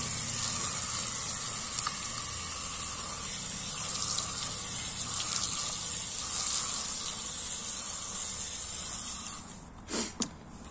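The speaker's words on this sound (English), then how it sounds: "you can see that water flows into the chamber and soapy water comes out" Water runs steadily through the soap dispenser chamber of an RAC all-in-one car washing brush, a continuous close hiss and gush that ends with a couple of short knocks.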